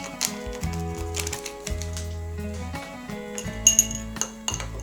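A spoon stirring a mix of yeast, sugar, flour and water in a bowl, making quick, close clinks and scrapes against the sides in short bursts with brief pauses.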